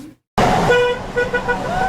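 Car horns honk from passing traffic on Campbell Drive in Homestead, Florida, greeting a roadside political honk-and-wave; steady loud horn tones over road and engine noise after a brief silence, with faint voices mixed in.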